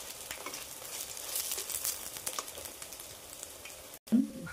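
Steady sizzling of pumpkin flower fritters frying in oil, with light crackle and pops throughout and a brief scrape or clatter near the end, no talk.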